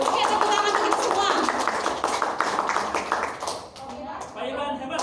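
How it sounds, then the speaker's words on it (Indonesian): Teachers at a workshop clap in a dense, lively burst of applause with voices talking over it, the clapping thinning out briefly before picking up again near the end. "Oke, tepuk tangan untuk kita semua."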